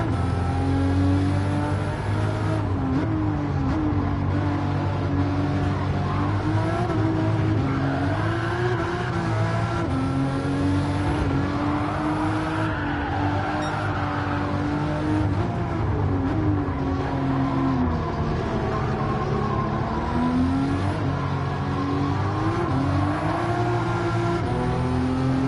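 A race car engine screams in Gran Turismo 7, revving up and down continuously as it climbs toward redline and shifts, with brief tire squeal and a loud, close, sustained roar.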